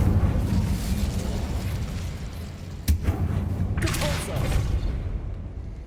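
An Incendio fire spell blasts a barricade in Hogwarts Legacy, a loud roaring whoosh with a sharp burst near the middle and a second crackling flare of flame afterward, heard over dense game background noise.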